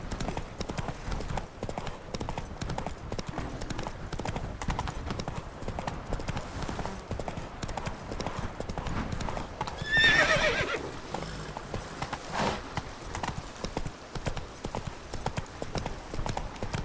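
Horse galloping in The Witcher 3 video game, rapid rhythmic hoofbeats pounding continuously on the ground, with a brief neigh or louder burst midway and faint game ambience beneath.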